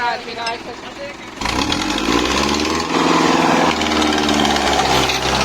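Diesel engine of a stuck New Holland 5620 4x4 tractor, which starts quieter and then swells into a loud, throbbing rumble as it revs hard and labours. Voices shout nearby over the engine.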